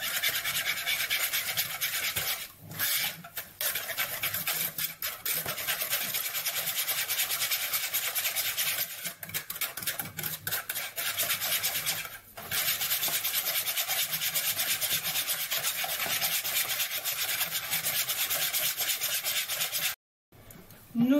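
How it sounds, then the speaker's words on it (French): Brownie batter is stirred with a flat whisk in a bowl, a close, continuous rasping scrape with brief pauses, running steadily for about twenty seconds. "Et on mélange avec le fouet plat."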